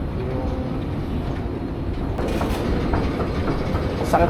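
A BART train runs on its rails with a loud, steady rumble and a continuous roar, heard from inside the car, and faint clacks and squeals rise slightly toward the end.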